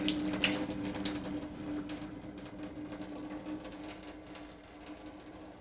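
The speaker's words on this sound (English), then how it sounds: "just going to drain this water off" Steady rushing water pours into a sink, a continuous splashing flow with a faint hum underneath, close by and fairly loud throughout.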